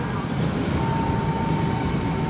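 Intercity Batory passenger train pulled by a locomotive, bound for Budapest, rolling into a station in Katowice: a steady, loud low rumble with a thin sustained tonal whine and no talk.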